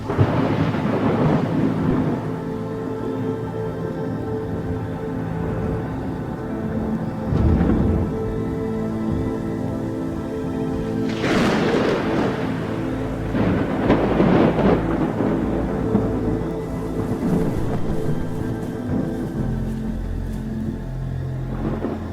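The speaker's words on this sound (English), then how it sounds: "The thunderstorm has passed over, but continues to rage." Heavy rolling thunder booms and rumbles repeatedly through a steady rainstorm, loud and close, with big cracks swelling and fading over the constant downpour.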